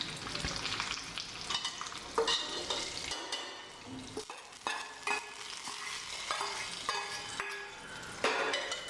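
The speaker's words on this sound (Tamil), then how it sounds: "இப்போ குக்கரில் அதை போட்டுக்கலாம்." Field bean curry ingredients sizzle and fry in a pressure cooker, with steady crackling and occasional stirring scrapes, close and moderately loud, with no talking.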